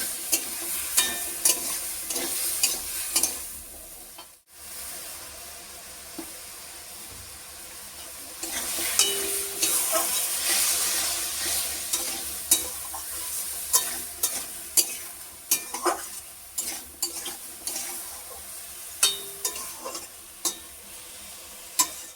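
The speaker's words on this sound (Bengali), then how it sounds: "এবার সবজিগুলো দিয়ে একটু কষিয়ে নেব।" Vegetables sautéing in a hot pan as a spatula stirs them, with steady sizzling and frequent scraping clicks close up, one brief pause early on, no voices.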